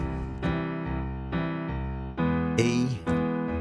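A series of sustained piano major chords played one after another, each struck cleanly and left ringing, the last one brighter and louder.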